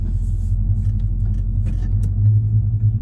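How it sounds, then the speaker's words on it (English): A 1970 El Camino V8 with a Turbo 400 transmission, dual exhaust and H pipes, heard from inside while driving: a deep, steady low rumble with a throaty exhaust note that swells slightly near the end, no talking. "I also redid the exhaust system and put in H pipes. So you'll be able to hear some of the tuning with the dual exhaust"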